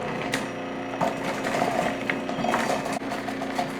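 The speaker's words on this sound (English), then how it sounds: "It doesn't take long if you got a good food processor to do this." A food processor slicing halved apples, a steady whirring motor with a busy clatter of pieces against the blade, close and continuous for a few seconds with no talk.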